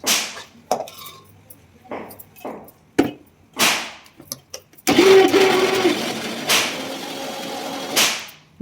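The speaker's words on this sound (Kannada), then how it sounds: "ನಾವು ಬೇಯಿಸಿರೋ ಕಾಳನ್ನು ಸೇರಿಸ್ಕೊಂಡು ಮಿಕ್ಸಿಗೆ ಹಾಕ್ಕೋಬೇಕು" A kitchen mixer grinder whirs as it purees cooked moong dal for snake gourd sambar, running in loud bursts with pauses between, then settling into a steadier sustained grind.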